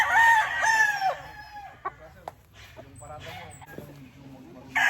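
A Boston Roundhead gamefowl rooster crows loudly and close by, one long crow at the start and another beginning at the end, with clucks and someone talking in between.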